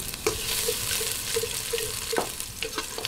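Garlic sautés in a pan as the base for chicken arroz caldo, a close, continuous sizzle with scraping stirs, including a sharp louder stroke near the end.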